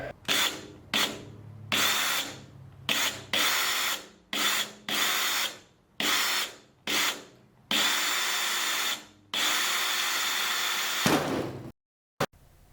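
A power drill drills out rivets near the firewall of an RV-7A kit aircraft in repeated short bursts, about a dozen starts and stops, with longer runs near the end, close and loud.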